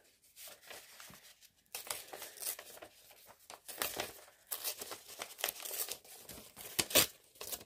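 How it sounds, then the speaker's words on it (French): Paper cut for a collage in an art journal makes soft close snipping and crinkling with small rustles and tears, quiet and irregular, with no voices. "Je vais en découper un bout pour l'autre côté."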